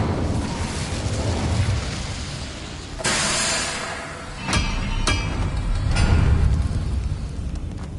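An Incendio fire spell is cast in the Hogwarts Legacy video game, with a sudden whooshing burst of flame followed by sharp crackling pops, over a rumbling background.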